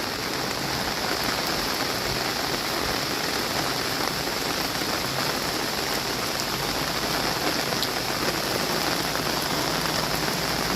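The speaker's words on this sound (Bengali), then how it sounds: "এখনো থেমে থেমে বৃষ্টি হচ্ছে।" Rain falls steadily over the Muhuri river at Belonia, Tripura, seen from a bridge, as a dense, even hiss of drops that continues unbroken and alone with no voices.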